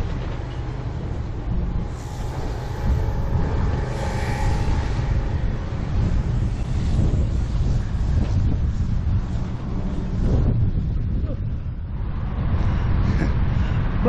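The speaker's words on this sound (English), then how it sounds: "look round this corner and hit that blooming wind again" Strong wind buffets the microphone while someone cycles along a road in England on a bicycle tour. A constant low rumbling roar with gusty swells runs the whole time, and no voice is heard.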